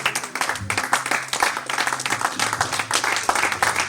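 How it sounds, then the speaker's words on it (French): Church congregation clapping and cheering in praise during a French-language Easter worship service, a dense, steady wash of applause with scattered voices running throughout. "Est-ce qu'on peut acclamer le Seigneur?"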